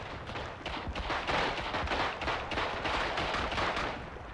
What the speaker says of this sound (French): Oula, ça tire par là.